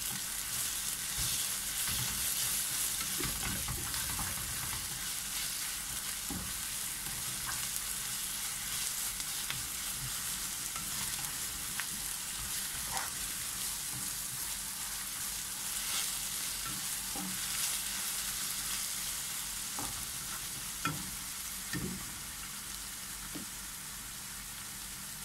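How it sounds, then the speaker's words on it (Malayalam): Ginger and garlic fry in a pan while being stirred, a steady loud sizzle with intermittent scraping and clicking of the spoon against the pan, continuing evenly throughout with no talk. "നന്നായിട്ട് മിക്സ് ചെയ്യാം"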